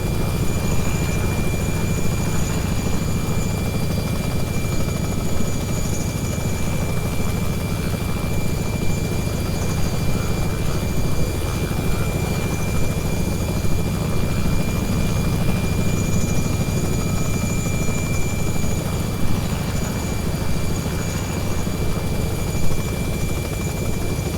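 A Robinson R66 turbine helicopter taking off from a taxiway, its rotor and turbine producing a loud, constant, even drone with a steady whine on top, heard close and continuous with no talk.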